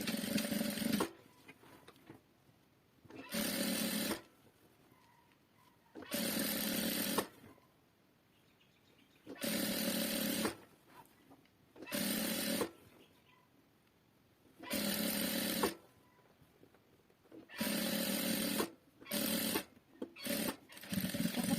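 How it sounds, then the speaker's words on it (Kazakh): A sewing machine stitches a backtack on a duvet cover in loud, steady whirring bursts of one to two seconds each, separated by short quiet pauses, close and alone with no talk. "жаңа белгілеген жерімізді тауып жақсылап закрепкамызды аямай тігіп шығамыз"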